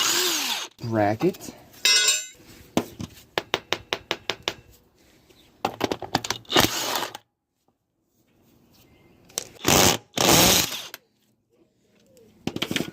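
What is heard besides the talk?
impact wrench removing power steering parts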